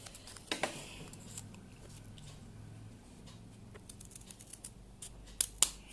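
Scissors snip through material while a Rubik's Cube stand is made, a couple of sharp close cuts near the start and a quick double snip at the end, with quiet handling between.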